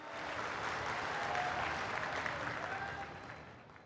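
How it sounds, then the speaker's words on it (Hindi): Sustained applause from a large crowd welcoming the Prime Minister at a BJP tribal assembly rally in Jhabua, Madhya Pradesh, steady and dense throughout with no talk over it. "एक बार जोरदार ताली बजाकर माननीय प्रधानमंत्री जी का स्वागत करें।"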